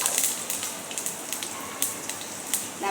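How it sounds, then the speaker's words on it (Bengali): Cumin seeds and pointed gourd sizzling in hot oil on a home stove, a steady close crackle with sharp little pops scattered throughout. "এটা দিলাম একটুখানি জিরে ফোড়ন"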